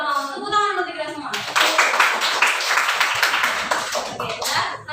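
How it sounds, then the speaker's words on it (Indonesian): Classroom clapping during an Islamic religious education lesson, with a group of children applauding together loudly and continuously after a voice speaks briefly at the start. "Tepuk tangan untuk kita semua."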